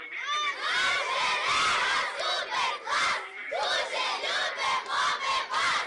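A group of children at a summer camp shout loudly in unison, answering in rhythmic bursts of chanted cries that rise and fall repeatedly, close and energetic.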